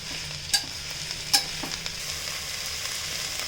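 Red amaranthus leaves wilting with onion in a pan, with a steady close sizzle and a couple of sharp utensil clinks as the greens are stirred.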